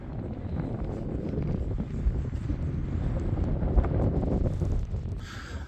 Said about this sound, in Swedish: Jag hoppas ni hör mig för det blåser en jävla massa.